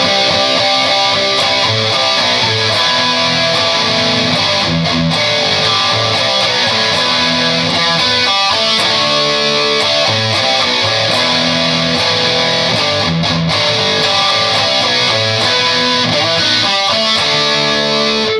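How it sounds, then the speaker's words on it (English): Distorted electric guitar plays a dense, sustained chord part from a song, loud and continuous with no voices over it. "then the distortion kicks in."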